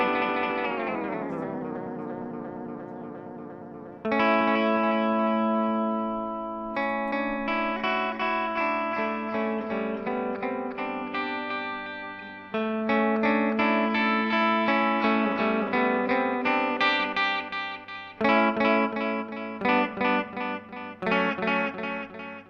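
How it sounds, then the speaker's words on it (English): Electric guitar through a Boss DD-8 delay pedal on a standard delay setting with light reverb, chords and notes ringing out with trailing repeats, played alone at steady close level. "This is, I think, standard delay plus reverb. So you've got a little bit of reverb going on the repeats."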